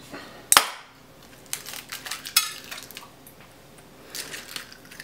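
Eggs cracked on a bowl edge and dropped into macaroni and cheese in a home kitchen, giving one sharp crack followed by soft clinks, squishy stirring and small kitchen clatter, close and fairly quiet with no talking.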